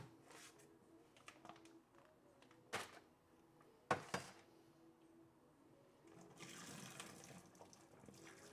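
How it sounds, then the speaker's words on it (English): Cooked beans draining through a strainer, water gushing and pouring in bursts with a couple of sharper splashes, then a steadier rush toward the end, fairly close in a kitchen sink with no talk. "We're gonna put them through a strainer."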